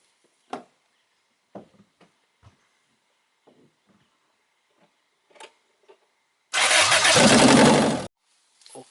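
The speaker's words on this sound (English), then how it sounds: "I go to start engine" A Toyota Corolla engine with low compression cranks for about a second and a half, a loud, even whirring grind that stops without catching, after scattered small clicks and taps.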